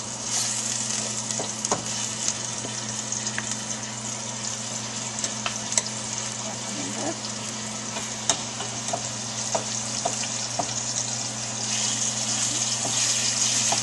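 Thin-sliced carne asada steak, about 1.5 pounds, fries steadily in a shallow layer of oil in a pan, giving a continuous dense sizzle with occasional sharp pops and crackles throughout.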